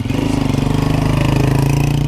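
A steady motorcycle engine idles close by, its low rumble pulsing in an even, rapid rhythm with no voices.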